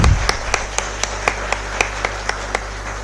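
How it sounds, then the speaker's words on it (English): A few people clap at a university department's golden jubilee event, slow and sparse, with about ten distinct claps at an even rhythm and a faint hum underneath. "A big round of applause, please."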